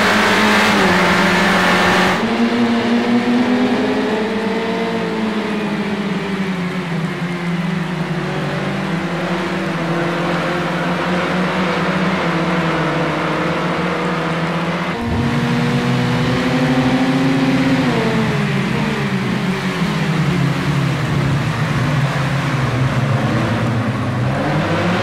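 Caterham SP/300.R race car in a racing video game at the Zolder circuit, its engine droning loud and steady with rising and falling revs through gear changes, a sharp shift near the middle.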